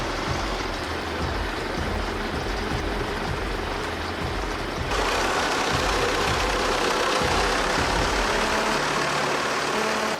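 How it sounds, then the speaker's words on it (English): The 160-horsepower engine of a Motorman Bihor articulated forestry tractor runs with a loud, knocking diesel rumble, steady and close. The sound grows noticeably fuller midway, with no voices. "The 160 horsepower engine roars to life"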